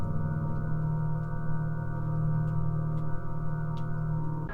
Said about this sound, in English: When driving forward, the Mustang Mach E emits a propulsion sound which sounds like this.